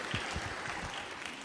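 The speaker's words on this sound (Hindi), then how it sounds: "ये मत करें तालियां, आई रिक्वेस्ट यू मत।" An audience at an Islamic youth talk applauds in a dense, steady patter of many hands clapping, moderately loud and continuous throughout, with no voices standing out.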